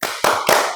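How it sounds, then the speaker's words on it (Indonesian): An audience in a lecture session performs a quick rhythmic spirit clap: three sharp, loud claps in under a second, each ringing out briefly before the next. "Oke, tepuk semangat."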